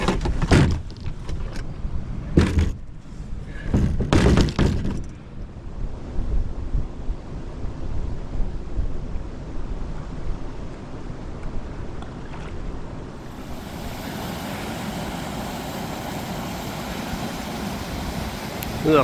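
Wind gusting across Keats Lake on a backcountry canoe trip, a steady roar with buffeting on the microphone, a few louder knocks early on, and the rush growing brighter and harsher toward the end.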